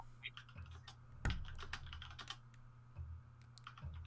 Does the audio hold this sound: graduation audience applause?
no